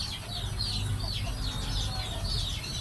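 A gamefowl clucks in a rapid, repeated series of short high calls over a constant low rumbling background, moderately close and steady throughout.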